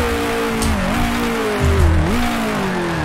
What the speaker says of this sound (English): You can hear the other cars streaming past.